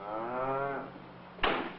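A milk cow on a 1950s wheat farm gives one long, deep, close moo that fades out, followed by a short thump.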